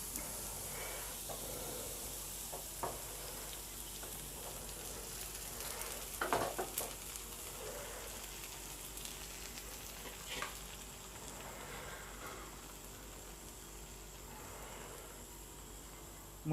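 Beaten eggs mixed with a little salt sizzle steadily in a hot pan, a continuous soft frying hiss with a few brief scraping clicks from stirring, close and fairly quiet, with no voices.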